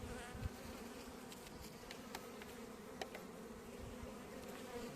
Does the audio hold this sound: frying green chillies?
no